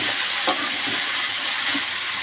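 Garlic, coconut pieces, onion and ginger fry in a pan with a loud, continuous close-up sizzle and a few soft stirring knocks.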